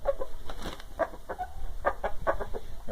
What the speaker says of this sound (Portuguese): Coisa linda esse galo.